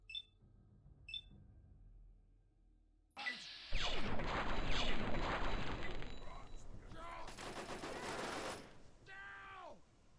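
Rapid sci-fi laser rifle fire in a horror video game, a dense loud burst running several seconds after quiet beeps, trailing into descending zaps, with faint talk.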